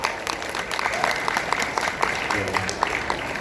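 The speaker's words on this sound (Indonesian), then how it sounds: "Lemes banget Pak tepuk tangannya." Light, scattered clapping from an audience at a property sales promotion, a thin, listless patter of hands rising to a steady level with crowd noise and a voice over it.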